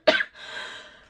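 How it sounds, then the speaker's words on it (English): A single short cough, close and sharp, followed by a soft trailing exhale. "Please excuse my cough"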